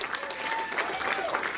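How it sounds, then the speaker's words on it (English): A comedy club audience claps in a dense, sustained round of applause, close and lively, with faint crowd murmur underneath and a voice briefly heard over it. "So we give him a round of applause one time."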